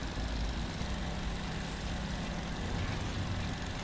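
A jackhammer in the horror video game FNAF Secret of the Mimic gives a steady, loud mechanical rattle with a deep rumble, running continuously with no talking.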